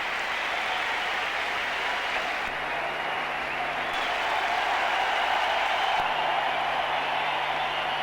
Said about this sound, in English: Huge cheer from everyone here.